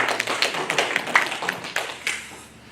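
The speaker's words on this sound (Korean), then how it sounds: "사랑의 박수 좀 보내드리겠습니다" Church congregation clapping in warm applause for elderly members, a dense patter of many hands that swells and then tapers off near the end.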